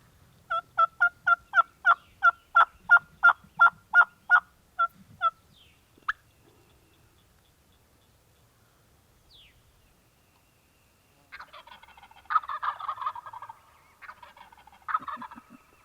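A run of about a dozen rapid, loud wild turkey gobbles in quick succession in Kentucky, followed by scattered fainter gobbling and clucking further off.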